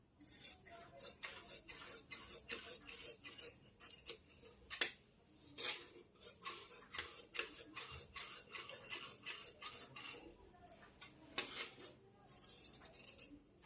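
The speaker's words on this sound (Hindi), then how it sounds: "अब हम इसकी कटिंग करेंगे।" Scissors snip repeatedly through blouse fabric during tailoring, a string of quiet, close, irregular crisp cuts and light metallic clicks spread over several seconds with brief pauses.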